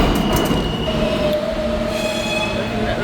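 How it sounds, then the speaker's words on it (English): A New York subway train on the 8th Avenue line rumbles loudly up close, with high wheel squeals and metallic ringing tones over the steady roar. "I'm about to get on the train"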